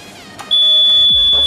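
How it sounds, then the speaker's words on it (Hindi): An electronic voting machine gives a loud, sustained high-pitched beep after a ballot button is pressed during a mock poll for the Bihar panchayat election, sounding close and clear with a faint click before it. "फिर बीप की आवाज आपको सुनाई देगी"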